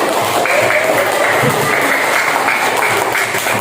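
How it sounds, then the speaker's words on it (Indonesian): Students in a Quran and Hadith lesson clap together in steady, loud classroom applause that continues throughout, with faint voices mixed underneath. "Mana tepuk tangannya?"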